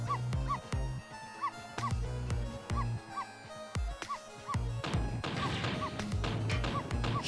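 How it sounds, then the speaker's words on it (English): Cartoonish dog barks from the video game Ghost Trick: Phantom Detective, several short yips and woofs repeating over looping game music, with a crash-like burst near the end. "No, Missile, you're not supposed to bark."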